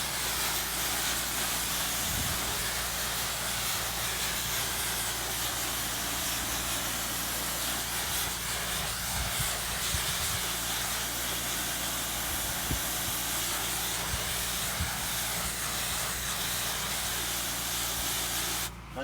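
A spray gun blasts water and cleaning mixture onto oxidized house siding, a loud continuous hiss that runs steadily without a break, close and unbroken from start to finish.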